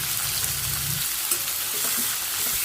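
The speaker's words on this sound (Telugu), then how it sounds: "ఉల్లిపాయ పచ్చి స్మెల్ పోయేంత వరకు కూడా బాగా వేయించేసుకోండి" Onion fries in hot oil with dried red chilli, cumin, mustard seeds, curry leaves and green chillies for a broad bean and tomato curry, a loud continuous sizzle and crackle with occasional stirring, no talking.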